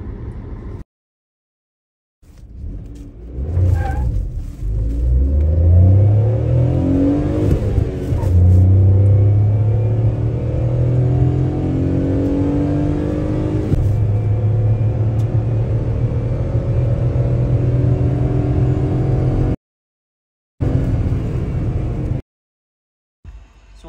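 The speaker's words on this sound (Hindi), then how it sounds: "अब हम गाड़ी के 0-100 टेस्ट की तरफ चलते हैं।" A Suzuki Wagon R car accelerating hard in a 0-100 test, its engine note rising steadily and loudly through the gears over about twenty seconds, heard close up with no talking.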